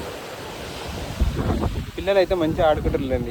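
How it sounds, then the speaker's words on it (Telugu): Large sea waves roll and surge onto the beach at Dhanushkodi, a broad washing roar mixed with wind buffeting the microphone, while a person talks over it in the second half. "ఇలా ఎంత పెద్ద పెద్ద అలలు వస్తున్నాయి అసలు"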